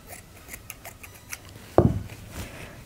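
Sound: scissors cutting chunky yarn

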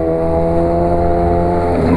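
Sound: Honda CB 1000R motorcycle engine revving

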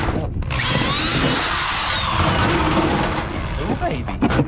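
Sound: power drill drilling into a Yeti cooler

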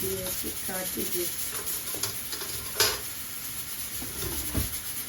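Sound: bitter gourd frying in oil

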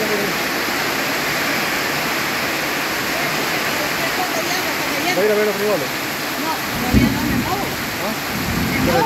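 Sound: heavy rain falling during a thunderstorm

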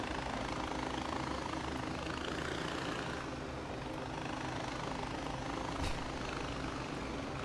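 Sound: helicopter hovering in video game Far Cry 4

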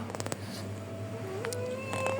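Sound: cat meowing

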